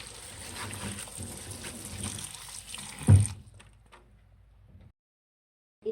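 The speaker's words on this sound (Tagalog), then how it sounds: "Hugasan lang po ang dahon ng cabbage." Cabbage leaves being washed under running water, a steady broadband wash of flowing water with handling noises for about three seconds, ending in a loud splash or thud before the flow stops and the sound goes quiet.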